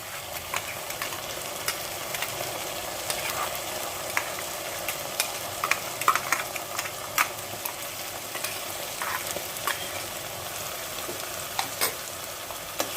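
Paste of ground onion, ginger and garlic frying in oil for a cauliflower roast, a steady crackling sizzle with occasional sharper pops and stirring scrapes, close and continuous.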